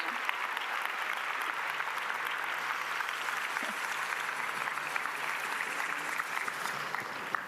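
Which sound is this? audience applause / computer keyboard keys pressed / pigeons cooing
audience applause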